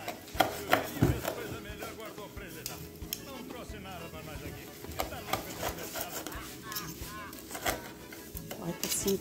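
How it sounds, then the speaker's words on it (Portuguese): A knife cuts meat into strips on a board in a home kitchen, giving repeated soft chops and scrapes, some sharper taps near the start, under a person's talking. "Corta assim tirinhas"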